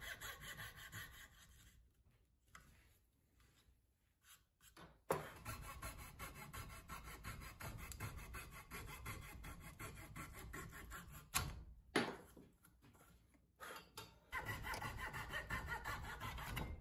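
A hand saw cuts curves in wood for a small test tube stand, with rapid rhythmic rasping strokes that come in bursts separated by short pauses, close and fairly quiet.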